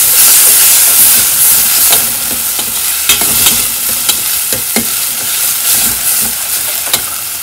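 Onion and tomato with a pinch of salt cooking in a pan for red lentil curry, a loud continuous sizzle and steamy hiss with intermittent clacks and scrapes of stirring, no speech.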